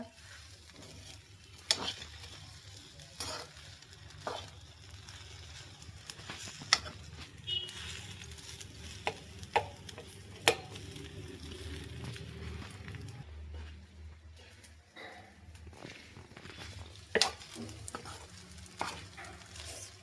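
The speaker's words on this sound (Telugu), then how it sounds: "ఈ రైస్ అయితే ఫ్రై చేసుకోవాలి ఫ్రెండ్స్ బాగా ఫ్రై చేసుకోవాలి" Chicken fried rice tossed and stir-fried in a pan, with repeated scraping clatters of a spatula over a low, steady sizzle, moderately close and without talk.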